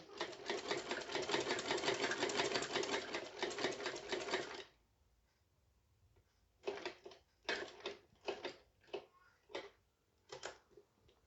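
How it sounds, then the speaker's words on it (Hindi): Close by, a sewing machine stitches a frock, first in a loud, steady rapid whir for several seconds, then after a pause in a run of short, start-stop bursts. "सुई रोक दें बीच में एंड फिर से स्टिचिंग स्टार्ट करें"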